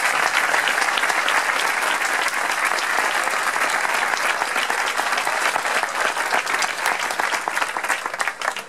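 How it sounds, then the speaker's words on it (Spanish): A theatre audience at a Cartagena film premiere breaks into loud, sustained applause, dense steady clapping that holds for the whole stretch and only begins to thin slightly near the end. "os pediría un fuerte aplauso"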